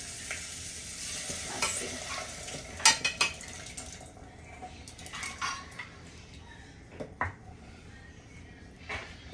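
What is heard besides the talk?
softened beans added to frying sofrito and stirred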